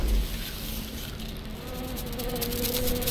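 Bees in the game Tesla Effect buzz in a continuous droning swarm, close and fairly loud, with a steady hum and no talk over it.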